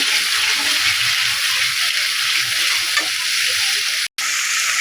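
Ginger, garlic and cumin frying in a pan for a village-style katla fish curry, giving a steady bright sizzle throughout with faint low stirring sounds and one brief dropout near the end.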